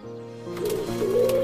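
Pigeons give a soft, low cooing that swells and wavers over a steady background, close and continuous with no talking.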